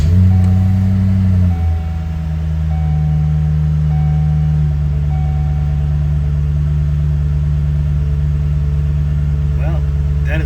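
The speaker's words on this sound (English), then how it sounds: "we're going to start the car up" A 2007 Cadillac XLR-V with a newly installed rear shock simulator runs after starting. It gives a steady, close engine hum with a brief higher tone early on, then settles into an even idle.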